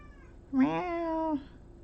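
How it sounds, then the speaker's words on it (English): A domestic cat gives one drawn-out meow, rising and then holding steady for nearly a second, close to the microphone in a quiet room. "She meows all the time."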